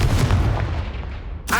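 A Confringo fire spell blast in Hogwarts Legacy, a loud booming burst with a rumbling decay lasting over a second, then a sharp new hit at the end.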